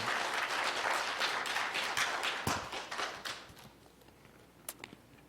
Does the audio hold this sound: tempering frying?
no